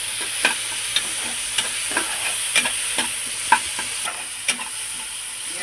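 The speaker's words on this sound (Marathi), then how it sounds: "हे असं आपलं छान फ्राय होईल बघा।" Tomato and chili masala with ginger-garlic paste frying for liver curry, a steady hiss of sizzling oil with regular scraping strokes of a spoon stirring the pan, close up.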